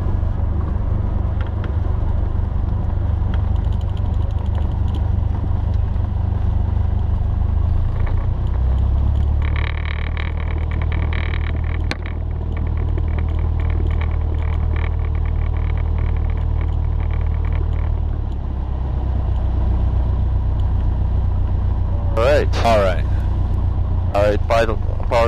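A light aircraft engine idles before takeoff during circuit training, a steady low rumble and drone filling the whole stretch, with instructor and student talking over it and a brief shift in pitch partway through.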